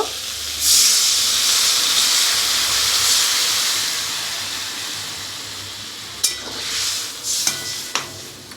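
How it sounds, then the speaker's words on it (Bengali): Sour mango curry boiling in a pot, a loud, steady hiss of steam and bubbling close by that eases slightly over time, with a few sharp clinks and stirring knocks near the end. "এবার একটু ফুটতে দেব।"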